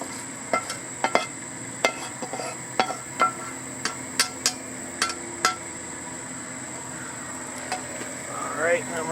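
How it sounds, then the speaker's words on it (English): Potatoes stirred in a hot frying pan on a backyard barbecue, a steady sizzle underneath sharp scrapes and clinks of the utensil against the pan, spaced irregularly and close by. "Give these potatoes a little stir."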